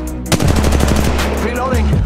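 Rapid automatic gunfire in the Apex Legends Mobile video game: a loud burst of closely spaced shots rattles for about two seconds after a short pause.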